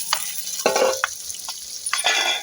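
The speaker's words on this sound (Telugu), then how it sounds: "ఆనియన్ పచ్చిమిర్చి కూడా వేగుతున్నాయి కదా, వాటితో పాటు ఈ చేపలు కూడా కొంచెం వేగుతాయి." Fish frying in a pan with onions and green chillies gives a soft, close sizzle broken by a few sharp stirring scrapes over a couple of seconds.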